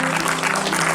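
Brief burst of dense clapping from an audience applauding a speaker at an anniversary forum, steady and loud with no pauses.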